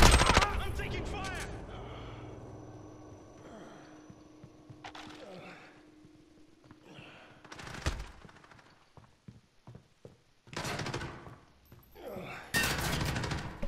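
Gunfire in the video game Call of Duty: Modern Warfare, with sharp bursts and scattered shots in a multiplayer match, louder volleys near the end, heard under voice chat.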